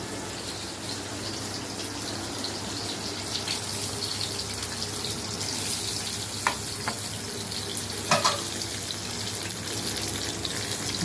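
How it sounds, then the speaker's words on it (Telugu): Pointed gourd (potol) slices frying in a pan give a steady, close hiss, broken by a few light clicks and taps from a utensil, with no one speaking. "పొటల్స్ ఫ్రై."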